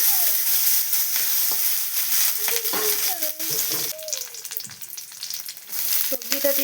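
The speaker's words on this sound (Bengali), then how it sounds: "তেজপাতা, গরম মশলা, এলাচ, কাজু বাদাম কিশমিশ দিয়ে দিলাম।" Bay leaf, garam masala, cardamom, cashews and raisins sizzle steadily in hot oil for a pulao, a loud continuous crackle broken by scraping stirs and brief clinks of a spoon against the pan, with no talking.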